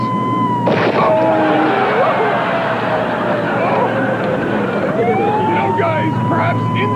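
A wailing emergency siren sweeps up and down continuously over dense traffic noise, loud and steady throughout.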